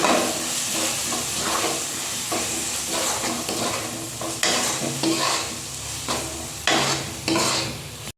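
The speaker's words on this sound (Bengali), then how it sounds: "এবার এই মশলাটাকে ভালো করে কিন্তু কষিয়ে নেব।" Spice masala with Kashmiri chilli powder sizzles in a pan while being stirred vigorously, repeated scraping strokes over a constant frying hiss, close and fairly loud.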